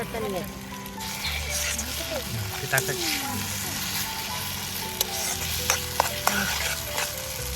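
Schezwan chutney mixture stirred and fried in a pan at an evening family party outdoors, a continuous sizzle with occasional spoon scrapes and clinks, under steady talk from several people.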